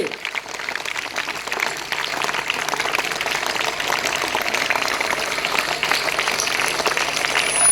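A crowd at an Indian Independence Day celebration keeps clapping, a dense, crackling stream of many hands at moderate loudness that builds slightly toward the end, with no clear talking over it.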